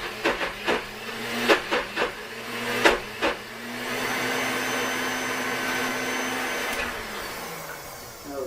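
Several sharp knocks and thumps come first, then a food processor starts up and runs steadily, blending hummus with olive oil in a loud, continuous whir close by.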